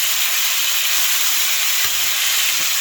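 Minced garlic sizzles steadily in olive oil in a pan for spaghetti sauce, a loud continuous bright hiss that never stops, with a faint stir or clink near the end.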